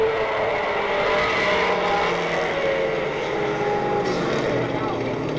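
Stock cars roaring past at Monadnock Speedway during a weekly race, a steady loud engine drone with shifting pitch as the pack sweeps by, mixed with crowd and track ambience.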